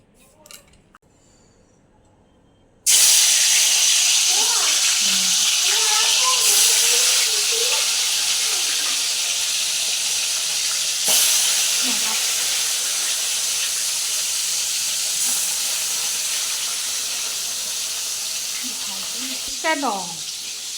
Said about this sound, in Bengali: মাছটা ভাজতে বসেছি।